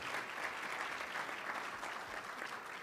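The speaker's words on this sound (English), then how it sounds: "Let's have a round of applause for Ms. Harris." Steady, dense clapping from a large audience fills the room, continuous and even throughout with no one speaking over it.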